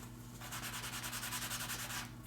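Sandpaper is rubbed back and forth over an engraved stone seal to erase it, a quick, even rhythm of close, gritty scratching strokes lasting under two seconds before stopping.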